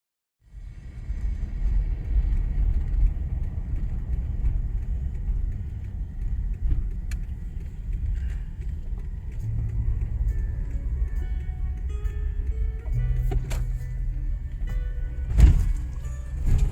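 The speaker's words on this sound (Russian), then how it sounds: "автомобиль плавно въезжает на ровный асфальт, создавая ощущение невесомости" A car drives along a smooth asphalt highway in Yakutia, a steady low rumble of tyres and engine filling the cabin, continuous and fairly loud with a few faint clicks and a brief thump near the end.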